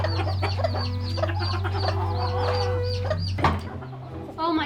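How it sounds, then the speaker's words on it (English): Farm chickens cluck and chatter continuously at close range over a steady low hum, with many overlapping short calls and a brief rustling burst near the end. "The chickens are cheering me on."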